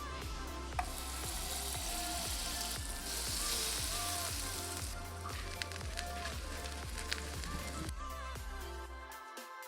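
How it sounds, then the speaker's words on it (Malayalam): Shredded kunafa dough roasting in butter in a pan, a soft continuous sizzle with repeated scraping stir strokes, quiet and close, ending abruptly. "ബട്ടറിൽ റോസ്റ്റ് ചെയ്തെടുക്കാം."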